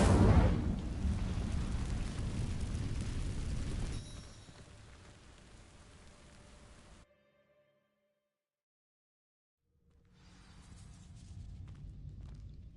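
A fire spell cast in the Hogwarts Legacy video game catches on dry vines, giving a loud rushing roar with crackling that fades out, followed by several seconds of silence before softer ambience returns.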